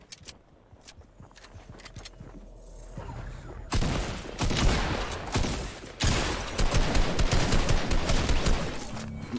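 Rapid gunfire in a Fortnite battle: bursts of quick shots start sparse and quiet, then turn into loud sustained automatic fire with a heavy rumbling background.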